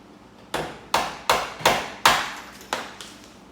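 A hammer drives a nail up through a door hinge to knock out the pin, giving six sharp metallic strikes at uneven intervals, each close and loud with a short ringing decay.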